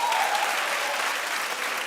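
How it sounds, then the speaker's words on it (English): Steady applause from a TV talk show studio audience, dense and sustained with no pauses, fairly loud throughout. "clap if you're persnickety like me"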